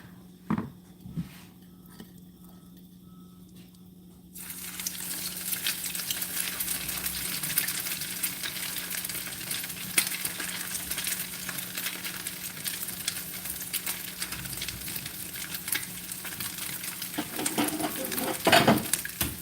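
Steady oily sizzling of salmon cakes frying in a hot wok begins after a quiet few seconds and continues throughout, with occasional faint clinks of utensils.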